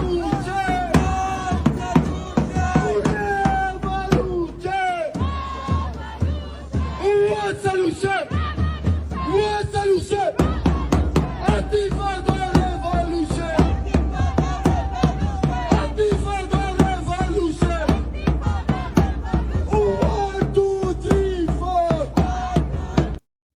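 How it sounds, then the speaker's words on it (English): Crowd at a march in Dearborn, Michigan, loud and close, many voices shouting and chanting in rhythmic bursts with percussive knocks, sustained throughout with brief pauses. "the crowd in Michigan chanted for an uprising against America"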